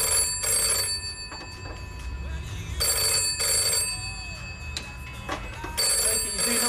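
An old landline telephone rings with a steady electronic trill in repeated bursts, set in a room with faint background noise between rings.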